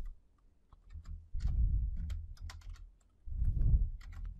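Someone types text on a computer keyboard while building a LabVIEW program: two close bursts of rapid clicking keystrokes, separated by a short pause, with no talking.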